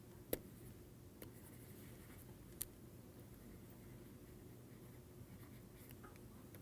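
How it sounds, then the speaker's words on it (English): A pen scratches out an equation on paper, faint and close, with a soft continuous scribble broken by a few sharp taps. "let me write down the equation first"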